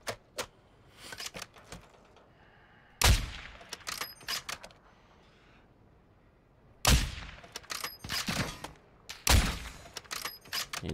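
Sharp, loud rifle shots from a Victus XMR sniper in the Call of Duty DMZ video game, several isolated cracks spread out with brief quiet gaps and smaller mechanical clicks between them, no talking.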